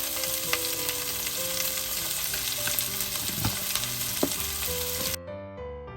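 Chopped onion frying with potatoes in a pan, a loud continuous sizzle broken by a few scraping stirs, with the sound cutting off sharply near the end.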